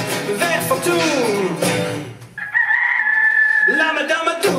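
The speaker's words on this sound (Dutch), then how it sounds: "De haan krijgt me wakker tijd om op te staan." A rooster's crow rings out loud and drawn-out during a live Dutch-language music performance, following sung vocals and giving way to more music afterward.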